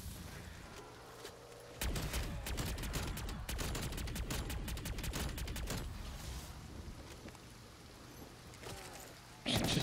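Rapid automatic gunfire in Black Ops 3 Custom Zombies, a long stream of quick sharp shots with a steady rhythm, fairly loud and close, tapering off before a final burst.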